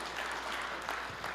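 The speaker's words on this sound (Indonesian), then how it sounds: "Berikan tepuk tangan yang meriah." Congregation applauding at a church service during an Indonesian sermon, a short steady wash of clapping at moderate level with no voices.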